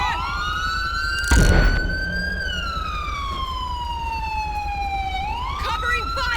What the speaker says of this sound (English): I'm gonna go ahead and turn off the siren